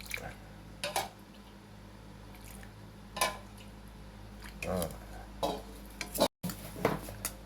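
Buriram-style mee yum noodle salad being stirred by hand to combine, with several soft wet squishing and scraping strokes at irregular intervals, fairly quiet and close, with no talking.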